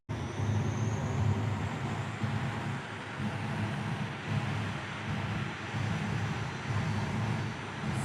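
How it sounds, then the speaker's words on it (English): A jet dragster spools up at Tucson Dragway, a loud, sustained roaring whoosh of turbine engine noise with a thin whine over it, steady and close, no talk over it. "the wicked sensation Jet Dragster"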